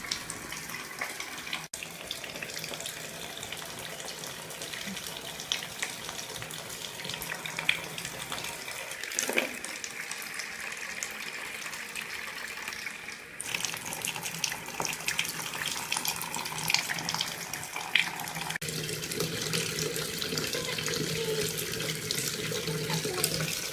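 Steady running tap water pours and splashes continuously, close by, rinsing soap off a dog, with small shifts in flow and texture as it hits the dog.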